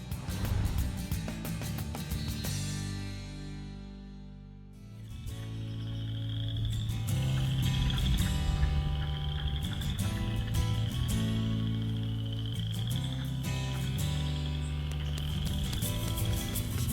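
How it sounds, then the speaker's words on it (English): Frogs croak in a big Manitoba swamp at evening, a dense, continuous chorus of pulsing, rhythmic calls layered with higher trilling, steady and loud throughout. "The frogs are croaking."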